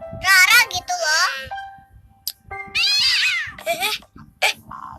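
A cat meows several times up close, with high, wavering cries mixed with a voice and other talk nearby.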